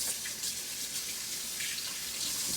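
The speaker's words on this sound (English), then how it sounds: "I'm gonna wash my hand before I touch my seasoning." Tap water runs steadily into a sink for hand washing during venison roast preparation in a home kitchen, a continuous close hiss with no talking.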